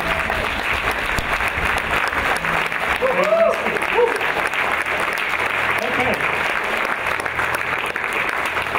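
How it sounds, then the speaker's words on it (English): A church congregation stands and applauds a family after a water baptism celebration, with steady sustained clapping filling the room throughout and a few brief words spoken over it. "Would you stand up and give these guys a clap?"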